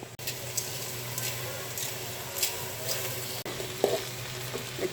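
Onion and garam masala frying in oil for pulao, a steady close sizzle with occasional stirring scrapes and clinks, no voices.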